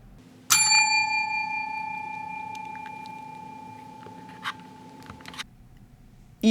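A single bright bell strike rings out near and clear, its tone decaying slowly over several seconds over faint background noise, followed by small scattered taps and a second sharp sound at the end.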